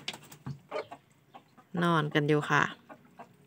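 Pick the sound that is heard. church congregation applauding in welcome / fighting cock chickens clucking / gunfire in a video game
fighting cock chickens clucking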